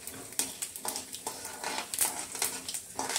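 Mustard seeds spluttering and popping in hot oil while cooking gooseberry rice with urad dal, chana dal and cumin, a faint scattered crackle of small irregular pops over a soft sizzle.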